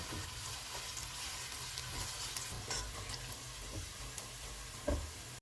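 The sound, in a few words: onions frying in hot oil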